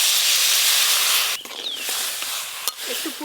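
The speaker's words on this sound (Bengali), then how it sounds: "এবার জল দিয়ে দেবো।" Water poured into a hot pan of cooking amra (hog plum) with salt and turmeric lets out a loud, steady steam hiss that breaks off sharply, followed by softer bubbling and a few faint clinks.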